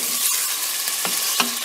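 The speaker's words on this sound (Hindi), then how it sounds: "और हमारा प्याज भी फ्राई हो रहा है" Onions sizzle steadily in a hot pan, with a couple of short scrapes of a spoon stirring them, close and fairly loud.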